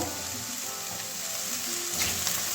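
Brinjal frying in oil in a pan with a tomato added, a steady close hiss of sizzling that swells slightly toward the end, with no voices.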